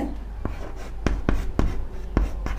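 A pen writes maths equations by hand, heard close up as short scratches and several sharp taps and clicks against the page and desk in an uneven rhythm. No voices.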